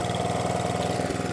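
A petrol engine on an Atco Balmoral cylinder lawnmower, in need of a service and not revving quite high enough, runs at a steady idle-like drone, close and continuous, with no talk.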